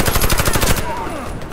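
Heavy machine gun fire in the video game Warface: a rapid, loud burst of rounds for under a second, then fading echoes.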